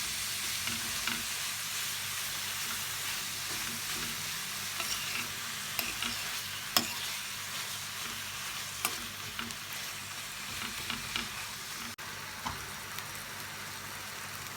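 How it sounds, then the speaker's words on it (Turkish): Minced beef, about 250 grams, sizzles in a pan with vegetables while being stirred for karnıyarık. A constant frying hiss runs throughout, broken by occasional scraping and clicking stir strokes, with no voices. "Dana kıymamızın da ilk bölümünü yaklaşık 250 gram kısmını ekliyoruz ve iyice yediriyoruz sebzelerimize."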